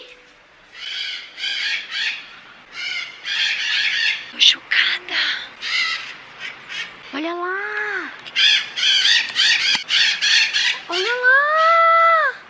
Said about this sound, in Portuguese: tem um papagaio aqui?